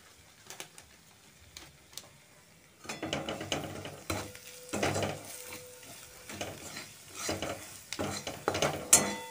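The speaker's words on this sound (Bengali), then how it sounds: "এবার এটা একটু ভাজা ভাজা করে নেব।" Spices fry in a wok after a quiet start, with a utensil stirring and scraping in close, uneven strokes over a soft sizzle and no talk.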